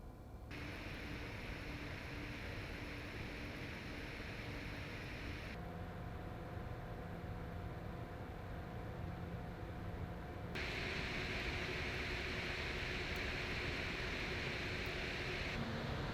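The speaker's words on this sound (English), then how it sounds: "let's kick it off with the silent fan profile at 1000 RPM" Graphics card cooler fans spinning at 1000 RPM on a silent profile give a steady, even whoosh of air noise with faint tonal hum, continuous throughout with slight shifts in character, and no talking.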